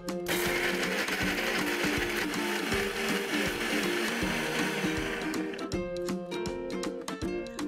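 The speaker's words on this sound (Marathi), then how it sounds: "हे आपण छान पाणी न घालता बारीक वाटून घेऊया" A kitchen mixer grinder whirs steadily as it grinds tomatoes, garlic and ginger into a paste without water, a loud continuous motor drone that breaks into rattling pulses near the end.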